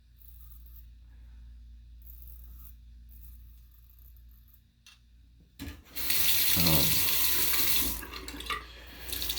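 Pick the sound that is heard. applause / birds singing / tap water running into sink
tap water running into sink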